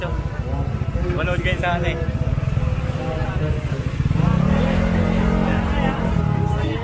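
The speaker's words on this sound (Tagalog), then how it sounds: "Yan yung motor na na PCX." A Honda PCX scooter-style motorcycle pulls away outdoors, its engine note rising and holding steady beneath a busy background, with people talking nearby.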